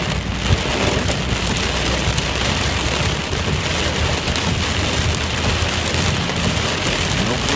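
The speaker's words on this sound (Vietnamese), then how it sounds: "bạn thấy mưa như bão vậy đó" Heavy storm-like rain pours down steadily and loudly along a road on the way home, a dense unbroken roar of drops with no pauses; a voice speaks faintly beneath it.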